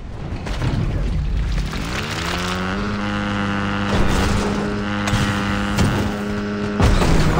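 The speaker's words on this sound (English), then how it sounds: "Someone get on this motorbike with me." Motorbike engine in the video game Fortnite, a steady loud drone that climbs in pitch as the bike speeds up, then holds a sustained revving tone with a few bumps and booms.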